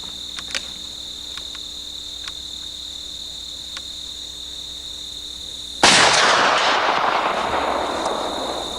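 A single loud gunshot aimed at a steel disc target breaks a quiet outdoor setting full of steady insect chirring, followed by a long, gradually fading rumbling echo.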